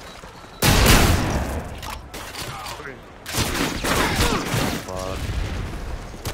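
Video game gunfire in a team deathmatch on the Favela map: two loud bursts of rapid shots, each fading into a rattling tail, with a man cursing briefly between them.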